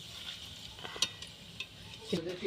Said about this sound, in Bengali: মশলাগুলোকে এখানে খুব ভালো করে ভেজে নিতে হবে